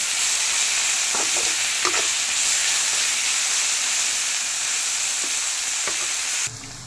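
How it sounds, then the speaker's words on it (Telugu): Amaranth leaf curry fries in a pan with a loud, steady sizzle and hiss, broken by a few faint stirring scrapes, before the sound shifts abruptly near the end, with no voices. "ఇంకా ఫ్రై అవ్వాలి బాగా."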